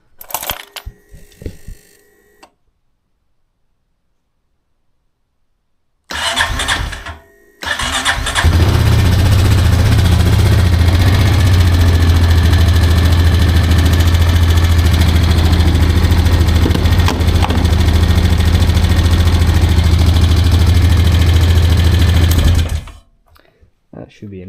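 A Honda TRX420FM1 ATV engine cranks briefly, falls silent, then fires and settles into a loud, steady idle that runs for about fifteen seconds before shutting off.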